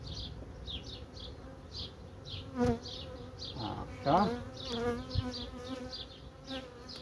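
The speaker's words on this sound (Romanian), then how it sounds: "zboară albinele în jurul tău," Honey bees buzzing around a beekeeper while colonies are being united, a dense close swarm of overlapping drones with individual bees passing near, and a brief spoken word at times.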